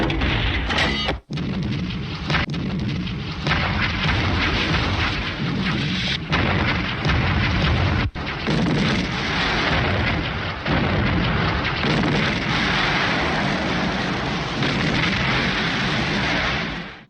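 A WWII artillery barrage, a continuous loud rumble of overlapping booming explosions with rolling thunder-like blasts and short gaps, sustained and dense for the whole stretch with no voices.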